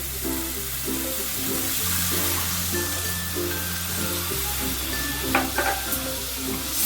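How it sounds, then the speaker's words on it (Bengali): A spice paste is sautéed for a fish curry with spring onions, giving a steady sizzle with rhythmic stirring, a faint background hum and a couple of clinks near the end, with nobody talking. "এবার মশলাটাকে খুব সুন্দর করে কষাতে হবে"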